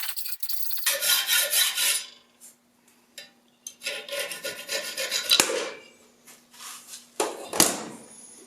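Metal part having its head cut off ahead of lathe work, harsh rasping strokes in several bursts separated by short pauses, with a sharp metallic clank near the end, close and loud.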